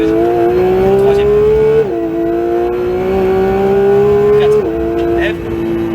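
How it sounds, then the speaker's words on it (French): Porsche 911 GT3 of the 992 generation on a race track, its engine note loud and rising steadily under acceleration, with two sharp drops at gear changes before it climbs again. The engine sound fills the whole stretch. "je garde un peu le pied sur l'accélérateur, comme ça c'est le filet de gaz qui fait le même travail"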